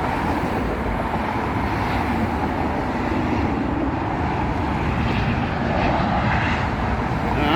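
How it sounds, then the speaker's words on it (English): An airplane comes in to land at an airport, its engines making a steady, loud, broadband roar throughout, with no voices over it. "If I'm actually filming the planes coming in."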